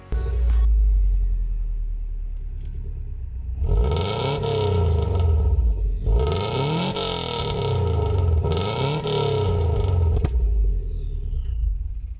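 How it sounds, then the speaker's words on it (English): A Subaru Forester XT SG5 fitted with an STI Genome exhaust idles with a deep rumble, then revs up and down several times in close, loud, throaty sweeps. "The really exciting bit is the STI Genome exhaust."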